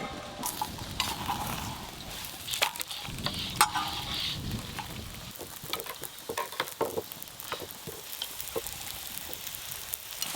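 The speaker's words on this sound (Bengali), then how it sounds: "আবার একটা পরোটা ভেজে নেব" A thick paratha fries in a pan, a soft, low sizzle with scraping and stirring clinks as it is turned, fairly quiet and with no talking.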